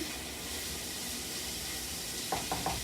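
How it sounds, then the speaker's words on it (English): Onions tossed in olive oil in a pan while making butternut squash soup: a steady, close sizzle throughout, with three brief scraping stirs near the end. "getting them just a nice little toss here so that they're all covered in olive oil"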